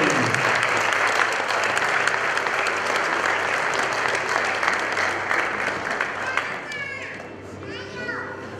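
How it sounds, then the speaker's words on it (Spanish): Loud, sustained applause from an audience at a quinceañera celebration welcomes the mini quinceañera couple, mixed with children's voices and crowd chatter, fading slightly toward the end. "El aplauso fuerte, por favor,"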